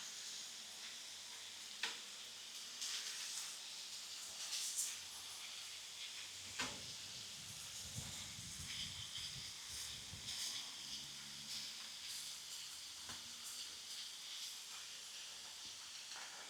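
Vegetables sizzle in oil in a pan, a continuous hissing crackle with occasional louder pops and a stirring scrape partway through, heard close and unbroken by talk.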